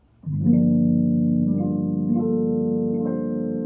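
A sustained Korg Kross electric piano chord with steady, clean tone and a couple of soft added notes, ringing out alone without any wavering effect.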